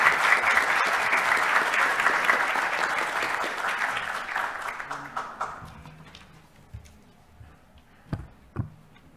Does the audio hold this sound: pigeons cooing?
no